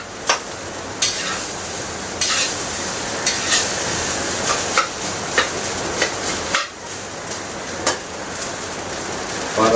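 Sinangag, Filipino garlic fried rice, stir-fried in a pan: a steady, loud sizzle runs throughout, punctuated by repeated sharp scrapes and clanks of a utensil against the pan at an irregular rhythm.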